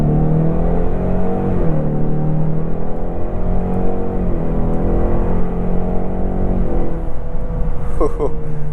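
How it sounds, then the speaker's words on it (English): A 2024 Ford Mustang EcoBoost engine revs up and down repeatedly, a deep droning exhaust rising and falling in pitch, close and loud. "that right there is the sound, the sweet sound of EcoBoost goodness right there"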